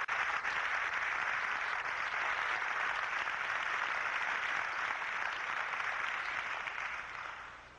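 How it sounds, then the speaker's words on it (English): Sustained applause from a large audience at an expo, a dense even wash of clapping that fades slightly toward the end. "Let's give a real hand of applause"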